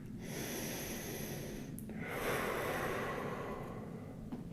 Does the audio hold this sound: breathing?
yes